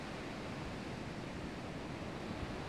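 Gentle ocean waves wash in a soft, continuous broadband hiss, steady and even throughout with no distinct breaking surges and no voices.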